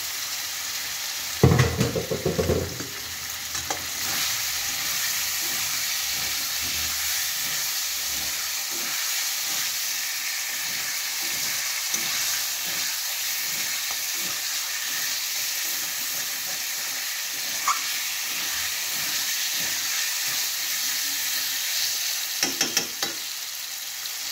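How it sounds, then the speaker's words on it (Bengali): Lightly boiled, pre-fried potatoes sizzle in mustard oil for an egg potato curry, a continuous close frying hiss with a louder burst and clatter near the start and faint stirring scrapes throughout. "এবার আমি ভাজা আলুটা দেবো। এই ভাজা আলুটা আমি এর মধ্যে দিয়ে দিচ্ছি।"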